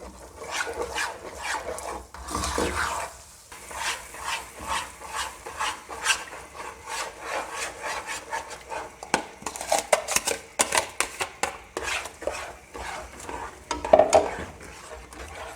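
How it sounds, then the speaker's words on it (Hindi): Eggs and semolina mixed slowly in a pan over a low flame for halwa, giving continuous soft scraping and stirring strokes in an irregular rhythm, close and moderately loud. "अब इन्हें आस्ता आस्ता मिक्स करेंगे।"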